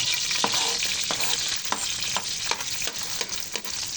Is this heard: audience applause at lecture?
no